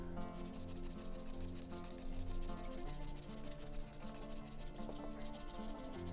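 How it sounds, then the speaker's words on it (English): Sandpaper of 100 grit rubs back and forth on an old wooden hand plane in steady, rhythmic strokes, close and moderately loud, with no talking. "just sand the surface roughness off"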